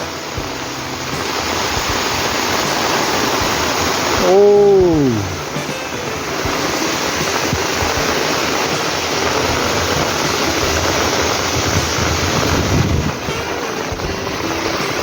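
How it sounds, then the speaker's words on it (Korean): Steady, dense hiss of a heavy rain shower over a vegetable garden pours throughout, loud and close, with a brief voice exclaiming partway through. "시원한 비소리"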